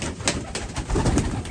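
Pigeons cooing at close range in a loft, soft low throaty coos repeating in quick succession.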